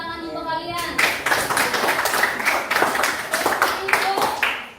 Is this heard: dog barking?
no